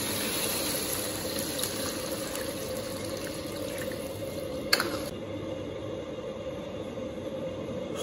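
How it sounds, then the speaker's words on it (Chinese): Water pours steadily into a cooking pot in a home kitchen, a continuous rushing stream at close range with a brief clink partway through. "加水"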